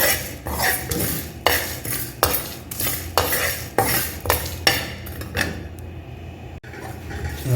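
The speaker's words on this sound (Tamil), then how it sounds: "வறுத்துட்ருக்கு" Masala for a Hogenakkal-style fish curry frying and being stirred in a pan, with repeated scraping strokes of a spoon against metal in a steady rhythm over a low sizzle, close and fairly loud, no talking.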